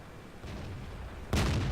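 A tank cannon fires in World of Tanks from a Chi-Nu or T29 replay, a single sharp loud blast arriving late after a low rumbling ambience.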